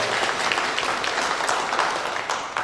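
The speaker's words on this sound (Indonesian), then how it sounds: "Tepuk tangan untuk Pak Ketua." An assembly claps for the newly sworn-in chairman at a regency council leadership oath ceremony in Tanggamus, Indonesia, a brief, dense burst of many hands clapping together.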